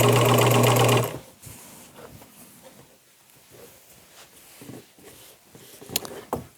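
A sewing machine stitches knit fabric in a loud, steady buzzing run for about a second, then stops, leaving quiet handling noises and faint fabric rustling.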